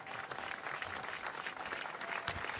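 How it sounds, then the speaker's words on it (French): Outdoor crowd applauding at the unveiling of the Johnny Hallyday statue at Bercy, continuous dense clapping from many hands, steady and moderately loud throughout. "Sous les applaudissements de la foule"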